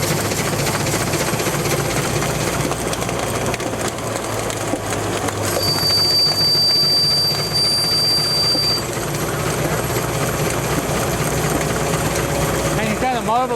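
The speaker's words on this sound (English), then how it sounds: "Steam engines have, I don't know, I want to say a comforting sound." A Gaar Scott steam engine runs steadily with a continuous mechanical churning and rumble, loud and close, while people talk over it and a brief high whistle-like tone sounds midway.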